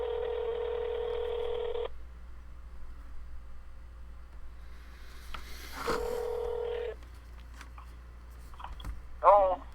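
A phone line rings on a call, two long tonal bursts separated by a pause, fairly loud over quiet line hiss, with a brief burst of voice near the end.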